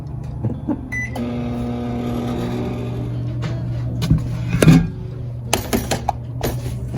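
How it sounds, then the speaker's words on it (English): A microwave oven running while melting chocolate, a steady low electric hum with a faint tonal whine, close by, ending in a few clunks and clicks near the end, no speech. "I'm going to microwave it every 15 seconds until I have my parchment ready."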